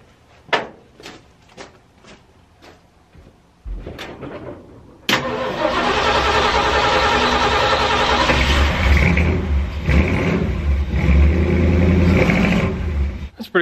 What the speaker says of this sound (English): It started my truck literally effortlessly.